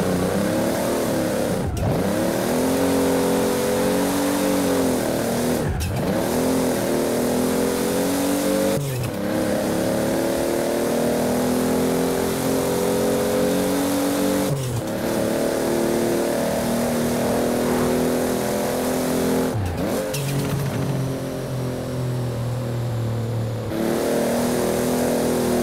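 A Toyota Supra engine in Forza Horizon 4 revs hard and steadily, climbing through the gears with brief drops at each shift, loud and continuous throughout.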